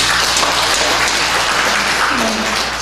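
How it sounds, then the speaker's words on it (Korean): Church congregation applauding during a worship service, a dense, steady wash of clapping from many hands throughout, fairly loud and close. "박수 한번 치시죠."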